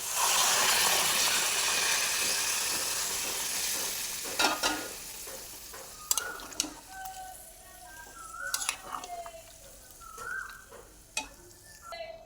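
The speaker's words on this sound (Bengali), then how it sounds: "এবার আমি দিয়ে দিচ্ছি পরিমাণ মতো জল" Water poured into a pan of fried shrimp, potato and young jackfruit sets off a loud hissing sizzle that fades over several seconds, followed by scattered clinks and scrapes of stirring.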